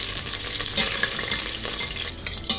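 Cardamom pods, a hand-crushed cinnamon stick, half a star anise and cloves frying in two tablespoons of ghee over medium heat, with a steady close sizzle and brief stirring scrapes, no voices.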